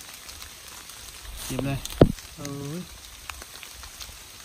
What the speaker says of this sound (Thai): ฝนตกครับ ฝนตกเลย